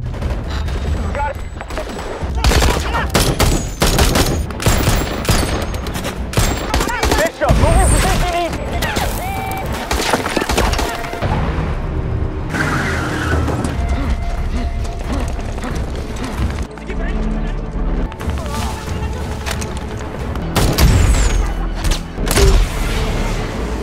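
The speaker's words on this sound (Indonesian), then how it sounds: "mulai menghujaninya dengan tembakan" Sustained bursts of gunfire with rapid automatic fire and heavy booms, loud and continuous, with shouted voices mixed in.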